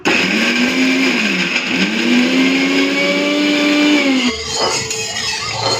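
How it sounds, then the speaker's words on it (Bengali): An electric grinder grinding spice paste runs loudly with a steady whining motor tone that sags and recovers in pitch, then cuts off near the end; no talking. "তেলটা যতক্ষণ গরম হচ্ছে সেই ফাঁকে আমি একটুখানি মশলাটা বেটে রেখে দিই"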